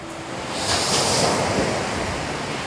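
Sea waves surge and wash along a beach, a steady broad roar swelling in the middle with wind buffeting the microphone throughout.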